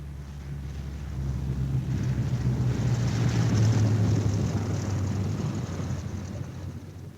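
A B-17 Flying Fortress bomber comes in to land with its left inboard engine dead, a steady low droning roar of piston engines with wind rush that swells slightly midway and holds loud throughout.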